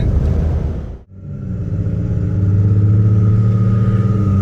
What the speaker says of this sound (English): That BMW moves out good.